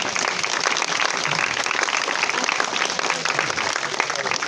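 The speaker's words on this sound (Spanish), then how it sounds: "Bueno, pues un aplauso." An audience at a book presentation in Béjar bursts into dense, even applause, many hands clapping continuously and fairly loud throughout.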